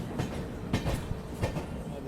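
A train runs along the rails near Kanpur Central with a steady rumble and rhythmic wheel clacks over rail joints, fairly close, alongside a faint background voice.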